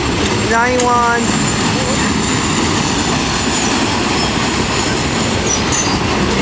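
Long Norfolk Southern northbound mixed freight train rolling past a grade crossing at Cooke Road in Columbus, a steady loud rumble of wagons with brief wheel squeal early on and a man counting cars over it.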